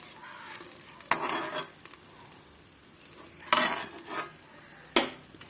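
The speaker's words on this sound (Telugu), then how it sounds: "ఆయిల్ లేకుండా అయితే మనమైతే ఈ వంకాయలన్నీ తీసేసుకోవాలి" Fried brinjals being stirred and lifted from hot oil in a pan, three distinct scraping clatters of a utensil over a soft background sizzle, close and clear.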